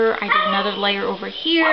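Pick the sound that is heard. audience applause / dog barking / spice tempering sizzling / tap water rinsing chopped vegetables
dog barking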